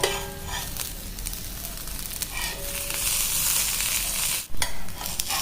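Pav buns toasting on a hot pan for pav bhaji give a steady, close sizzle with light scraping and stirring clatter, continuous throughout and with no talking.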